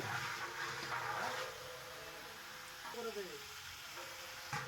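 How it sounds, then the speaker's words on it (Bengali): Potatoes fry in a pan for chicken khichra, a soft steady sizzle with occasional stirring, faint and close, with a voice speaking over part of it. "আলুটা দিয়ে আলুটাকে ভেজে নিতে হবে"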